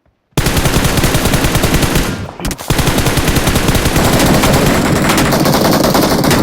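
Sustained automatic gunfire from the video game PUBG, loud rapid bursts running almost continuously after a brief opening silence, with a short gap midway before firing resumes.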